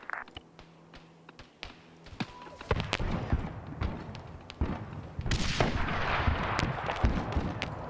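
Scattered sharp gunshot cracks in a game, sparse at first, then denser and louder bursts of gunfire with rumbling explosions toward the end.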